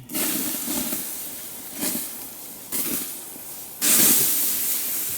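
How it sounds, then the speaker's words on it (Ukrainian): A wood fire in a homemade smokehouse used for fish is doused, giving several loud, broad hissing bursts of steam, the last one strongest, with no talking. "Тушимо, Андрій, тушимо вогонь."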